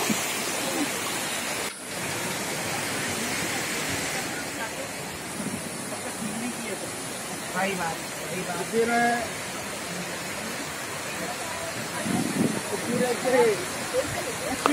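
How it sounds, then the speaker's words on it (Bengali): A waterfall beneath a living root bridge in Meghalaya roars steadily as water crashes down, a constant wash of noise under a voice speaking close up. "দেখছেন কিভাবে উপর থেকে ঝর্ণার জলটাকে পড়ছে"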